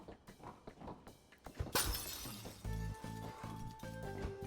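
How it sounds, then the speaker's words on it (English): A light bulb shatters in the video game Night in the Woods: one sharp, bright glass smash stands out clearly over steady game music, followed by a short crackle of breaking. "I'm very good at the light bulb smashing."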